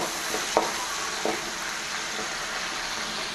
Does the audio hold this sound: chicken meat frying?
yes